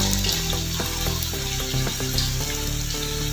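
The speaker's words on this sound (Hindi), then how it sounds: "अब इसमें ये कबाब डालते जाएंगे और फ्राई करते जाएंगे।" Kebabs fry in hot oil in a karahi over a medium flame, giving a loud, continuous sizzle and crackle with scattered pops throughout, with no talk.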